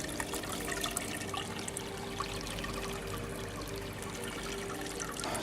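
Rainwater running through a clear PVC pipe into a cistern, a steady trickling and pouring with small gurgles, continuous and fairly quiet with no speech.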